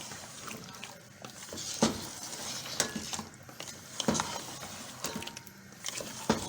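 A spoon stirs mutton trotters frying in a pot, with faint sizzling and a series of sharp metallic scrapes and clinks against the pot at irregular intervals.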